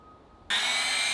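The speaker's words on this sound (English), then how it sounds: "So we're gonna get everything leveled up here and cut our 4x4 post." A power saw cuts into a 4x4 wooden post for a backyard office build, starting abruptly after a quiet hum and continuing as a loud, bright, steady whine up close.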